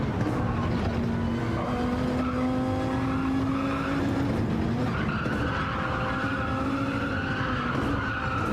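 A race car in Gran Turismo 7 skidding through the carousel corner, with steady tire squeal over a droning engine that shifts pitch midway, continuous and loud.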